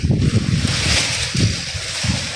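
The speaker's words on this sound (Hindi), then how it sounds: "ओए हवा चल रही है" Wind gusts buffet the microphone outdoors near a lovebird nest, a loud, rumbling rush that swells in several pulses with a broad hiss over it.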